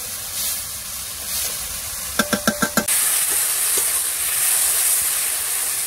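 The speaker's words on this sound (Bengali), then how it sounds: "পেঁয়াজ আর রসুন যে পেস্টটা, সেটা কিন্তু ভাজা হয়ে গেছে" An onion and garlic paste fries in hot oil with a continuous loud sizzle. Midway, a rapid burst of five sharp metallic taps breaks in, and then the sizzling returns, brighter than before.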